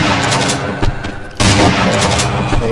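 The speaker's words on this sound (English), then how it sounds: "I hope you like shotgun." Shotgun blasts in the horror shooter game They Hunger: loud, booming shots close together, with sharp onsets at short intervals over dense background game noise.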